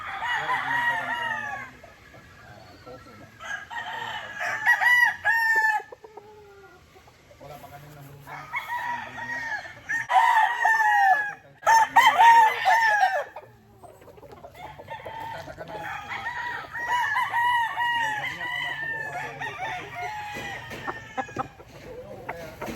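A Boston bloodline gamefowl rooster crows repeatedly in loud, close bursts, with clucking from other fowl in the gaps and faint background sounds between calls.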